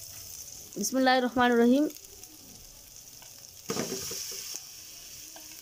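Minced meat frying and being stirred in a pan with cumin, a faint crackling sizzle that grows brighter after a short spoken phrase at the start.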